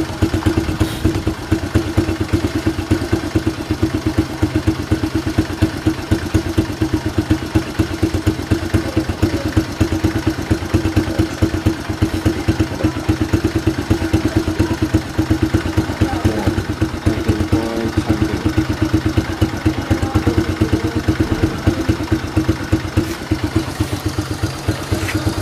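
A Fury 125 motorcycle idles steadily at close range, its engine giving a continuous low, even putter with light mechanical clatter and no change in pace throughout.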